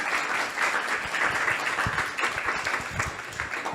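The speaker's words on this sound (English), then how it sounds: "Give them a round of applause." Audience applause at a Vyasa-puja celebration, dense steady clapping from a crowd throughout, fairly loud and unbroken.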